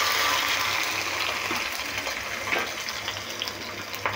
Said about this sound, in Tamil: வெந்தயம் சேர்த்தோன்னே பூண்டை சேர்த்து வதக்குங்க.